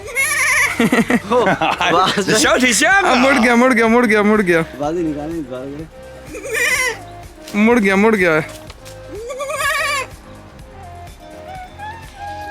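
Goat in China bought for Qurbani, answered by a person mimicking goat bleats: a series of loud, wavering, nasal bleats in bursts, mixed with people talking nearby.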